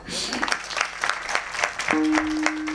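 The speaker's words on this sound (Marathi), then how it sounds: "टाळी वाजवा" Audience clapping at a Marathi kirtan devotional gathering, a burst of claps from the crowd with a sustained harmonium-like tone entering partway through.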